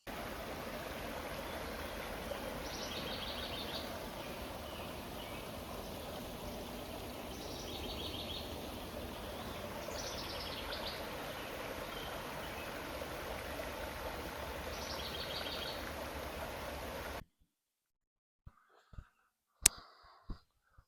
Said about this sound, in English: see how that creek's running this morning